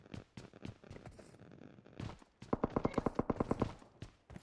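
Gunfire in PUBG Mobile, scattered single shots early, then a quick burst of about a dozen evenly spaced shots, moderately close and fairly faint overall.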